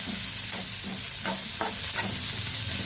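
A spoon stirs yellow potato bhaji in a frying pan, scraping in soft repeated strokes over a steady sizzle of hot oil, with no talking.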